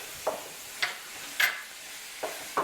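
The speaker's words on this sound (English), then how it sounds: "while Bev is browning the meat" Meat browns in a pan with crushed garlic for a Sicilian-style lasagna, with a faint steady sizzle broken by five soft scraping stirs spaced about half a second apart.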